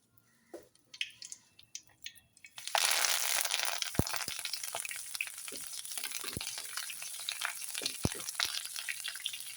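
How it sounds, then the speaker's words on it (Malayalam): Curry leaves fry in hot oil in a home kitchen: scattered crackles, then a sudden loud, steady sizzle with occasional sharp pops and stirring, close up and with no talk. "ഇങ്ങനെ വറുത്ത് കോരി കുറച്ച് വറുത്ത് കോരി"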